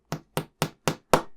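A small hammer gives five sharp, evenly spaced taps, each a little louder toward the end, driving a pin into a joint of a Fanhome Transformers movie Optimus Prime build model, close and alone.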